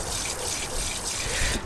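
Steady, close rush of water streaming from a portable camp shower at an overland slide-out kitchen, used for washing dishes, a continuous hiss without pauses and no voices.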